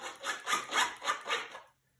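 A Makita drill drives small screws into a wooden squirrel maze, giving about six rhythmic, close whirring pulses in a row before stopping abruptly.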